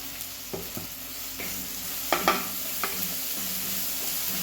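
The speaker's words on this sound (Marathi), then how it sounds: "कढीपत्ता टाकूया" Curry leaves sizzle in hot oil for a whole masoor dish. A steady, soft frying hiss runs throughout, broken by several sharp clicks and stirring knocks.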